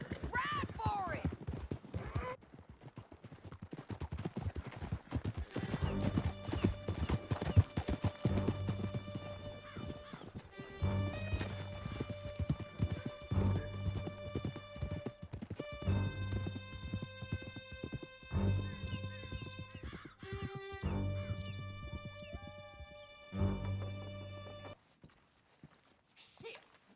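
Horses gallop with rapid, steady clip-clop hoofbeats in a Western-style video game, close and loud beneath a sustained music score, with scattered voices speaking over the ride.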